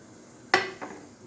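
A metal lid is set down over a cooking pot of soya chunks curry, giving one sharp clatter followed by a softer second clink as it settles, close and alone in a quiet kitchen.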